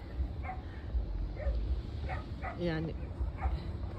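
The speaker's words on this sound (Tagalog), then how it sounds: "tumatuhol siya pag gusto niya maglaro" A pet dog outdoors in snow gives short whimpers and yips, several brief calls with a clear tonal whine near the middle, while a person talks throughout.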